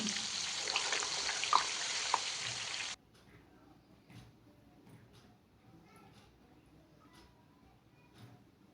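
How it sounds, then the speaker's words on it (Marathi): Potato wafers deep-frying in hot oil give a loud, dense sizzling hiss for about three seconds, then it cuts off abruptly to near silence with faint scattered clicks. "आता एक बॅच तर तळली, आता दुसरी पण बॅच तळून घेऊ"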